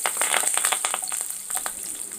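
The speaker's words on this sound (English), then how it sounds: "Once the green chilli starts frying, it starts to splatter." Curry leaves and green chilli fry in hot oil, giving a close, steady sizzle with sharp crackling pops and spits that come in quick irregular bursts throughout.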